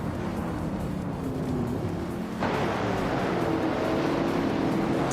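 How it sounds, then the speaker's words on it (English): A 1964 Shelby Cobra 427 racing car engine in a racing video game drones steadily and loudly throughout, its tone rising slightly after a shift midway, with no talk over it. "Nuts is driving a 1964 Shelby Cobra 427, same as many others in this race."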